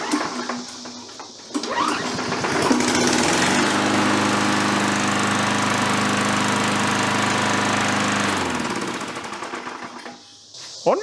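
A Murray push mower with a Tecumseh engine pulled into life, catching after a couple of seconds and running loud and steady with a throbbing putter, then sputtering and dying near the end.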